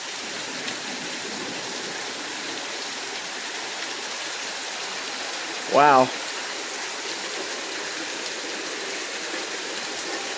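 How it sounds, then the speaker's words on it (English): Heavy rain pours down after months of drought, a dense, steady roar with close splashing. A single voice briefly exclaims midway. "Looks like I'll get at least 2 inches of rain after no rain for months."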